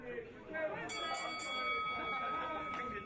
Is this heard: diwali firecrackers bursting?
no